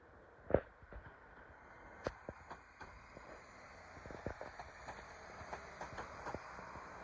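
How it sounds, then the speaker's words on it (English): TransPennine Express train pulling away from platform 3 at York station, heard at a distance as a faint, steady rumble with scattered clicks and knocks from the wheels over rail joints, plus a thin high whine above station ambience. "Departing now off platform number 3 with your 12:20 Transpennine Express"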